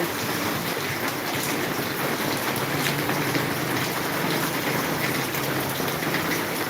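Heavy rain falls in Maharajpur, a dense, steady hiss of drops on surfaces that stays even and loud throughout.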